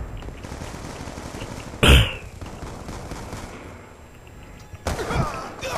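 Bursts of light machine gun fire in the shooter game Black Ops 2 multiplayer, two sharp loud volleys about three seconds apart over a steady background of distant battle noise.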